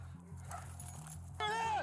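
A police dog deployed during an arrest in a backyard barks and yips over loud, steady engine or siren drone, with a sharp high whimpering burst near the end; someone talks over it.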